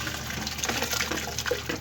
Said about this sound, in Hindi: माशाल्लाह चावलों का पानी उबल चुका है। अब हम चावल डाल देंगे।